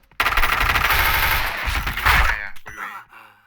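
Rapid bursts of automatic gunfire rattle loudly in the game Point Blank, dense for a couple of seconds before breaking into scattered shots and fading.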